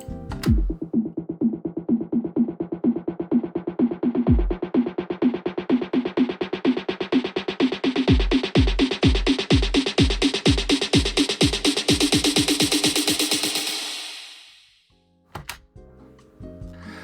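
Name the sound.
EDM buildup kick drum pattern speeding up to 16ths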